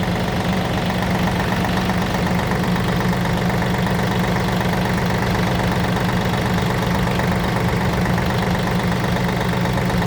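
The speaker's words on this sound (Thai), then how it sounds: "สตาร์ทเครื่องหมุนพวงมาลัยให้ดู" A car engine is started and runs while the steering wheel is turned, checking a front axle, a loud, close, steady idling rumble with a rough, knocking texture throughout.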